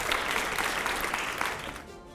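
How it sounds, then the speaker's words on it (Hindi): Audience applause at a televised political interview event, a dense steady clapping that fills the short stretch, close and fairly loud, fading slightly at the end with no talk over it. "जोरदार तालियां पहले अगले सवाल के पहले"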